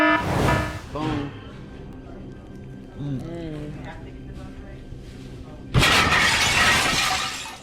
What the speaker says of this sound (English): Imagine sitting down for a burger and suddenly seeing a car come straight at you on the other side of the glass.